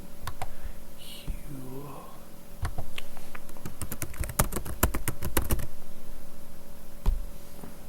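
Keys on a computer keyboard are tapped to enter a digital signature, first in a few scattered clicks and then in a dense burst of rapid close-up keystrokes, with faint murmuring underneath.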